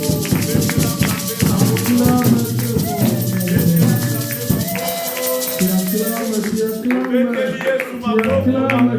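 Congregation clapping during a French-language church service, rhythmic hand claps beating along with voices and music, loud and sustained before thinning out near the end.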